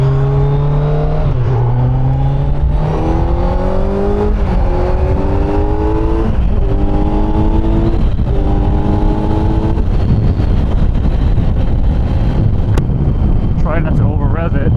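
A 2025 Kawasaki Z900 motorcycle ridden on foggy New York roads, its engine note rising repeatedly through the gears under steady wind roar, with a rider speaking over it.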